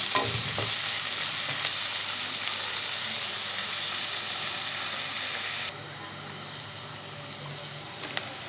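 Onions and mint for mushroom mandi rice sauté toward golden in a pan, giving a constant close, hissing sizzle with occasional stirring clicks; the sizzle abruptly drops to a softer level near the end.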